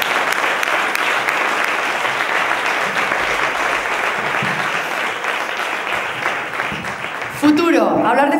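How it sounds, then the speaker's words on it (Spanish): Steady audience applause at a television awards gala, dense continuous clapping for several seconds before a voice cuts in near the end. "Un fuerte aplauso para Joaquín."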